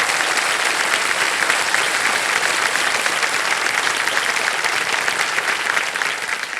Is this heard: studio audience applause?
yes